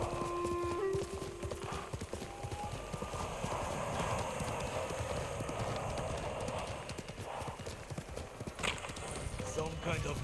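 Horse hooves clip-clop at a steady gallop in Ghost of Tsushima, a continuous drumming rhythm with an occasional whinny, set under game music and ambience.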